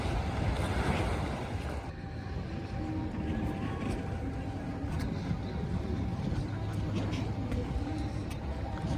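Sea waves washing ashore at Langeron beach in Odessa on a sunny February day, a steady broadband surf roar with wind buffeting the microphone throughout.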